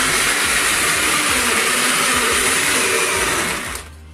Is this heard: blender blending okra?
yes